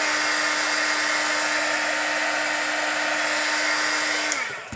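Electric heat gun drying paint on a holiday craft frame, a steady loud whooshing blower hum with a constant whine that runs alone before winding down as it is switched off at the end.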